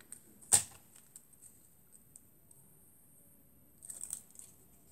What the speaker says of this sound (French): Je vais découper ici aussi.